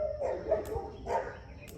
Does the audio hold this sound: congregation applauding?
no